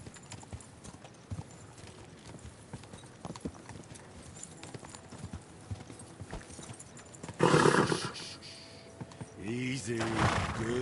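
A horse's hooves clip-clop at a steady walking pace in the medieval video game Kingdom Come Deliverance 2, soft and fairly close. Near the end, louder bursts of voices come in over the hoofbeats.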